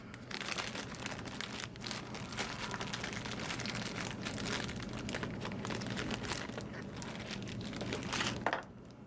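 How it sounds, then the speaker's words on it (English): Plastic bag crinkles and rustles continuously at close range as items for a model car group build are pulled out, with dense crackling throughout and no talk. "I didn't pull them out of the bag yet either."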